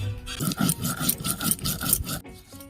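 A spice paste for egg paturi is ground by hand, producing a steady rhythm of close, rasping back-and-forth strokes that stop abruptly near the end, with no talking.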